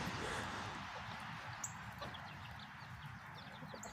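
Backyard chickens clucking continuously and fairly close, a dense flock chatter of overlapping soft clucks waiting for food, with no talk.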